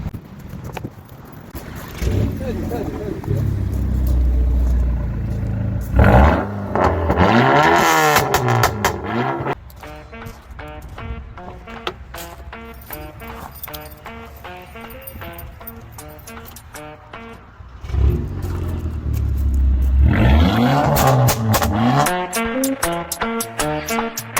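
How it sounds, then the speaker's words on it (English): A Volkswagen Golf GTI Mk6 engine revs loudly several times, rising and falling bursts with a rumbling exhaust, close by, steadier idle between the surges. "what I'm trying to say, guys, is this car sounds crazy"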